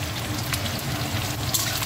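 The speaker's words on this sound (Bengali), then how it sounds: "জিরে শুকনো লঙ্কা ফোড়ন দিয়ে পেঁয়াজটা একটু লাল লাল করে ভেজে নেবো বন্ধুরা" Onion frying in hot oil tempered with cumin and dry chilli, a soft, even crackling sizzle that runs continuously at moderate level, close by, with no other sounds on top.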